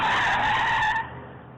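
Car tires skid and squeal hard under sudden braking, a loud screeching burst lasting about a second before cutting off into a low background rumble.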